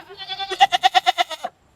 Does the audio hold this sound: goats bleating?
yes